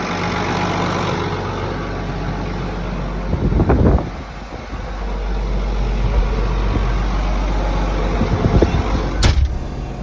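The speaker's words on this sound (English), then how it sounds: "This tractor here is rated at, I think, 170 PTO horsepower." A 170 PTO horsepower tractor engine runs steadily at a low, continuous rumble throughout, with a brief louder surge partway in and a sharp knock near the end.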